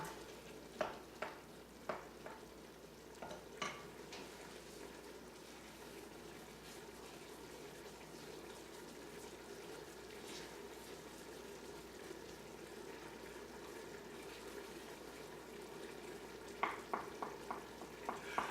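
Roast beef soup ingredients with basil and rosemary simmering in a pot: a steady, soft sizzle and bubbling hiss with occasional faint clicks and stirs, close and quiet, no talk.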